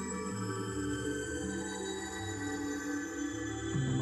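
A Mutable Instruments Beads granular module plays with its reverb switched off, giving a dense, sustained drone with stepped low tones shifting beneath a bright static layer, steady and close.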